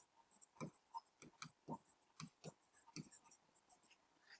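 Pen or chalk writing during a class 9 maths lesson on Heron's formula, quick scratchy strokes and taps in an uneven rhythm, close but quiet, with faint whispery speech in the background.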